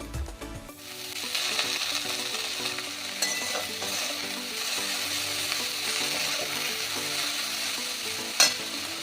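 Helencha greens fry in a pan with a constant loud crackling sizzle as they are stirred, with scraping and an occasional sharp utensil knock near the end over a steady tonal hum in the background.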